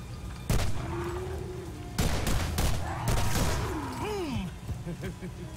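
Sniper rifle shots in Borderlands ring out as several loud, sharp cracks, each followed by a brief rumbling tail, mixed with game effects and a rising and falling whine.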